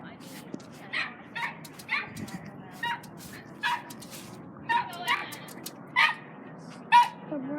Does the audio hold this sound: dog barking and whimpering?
yes